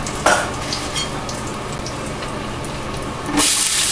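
Garlic and red pepper flakes frying in about a quarter cup of olive oil, a steady close sizzle with a sharp crackling burst at the start and a louder hiss swelling at the end.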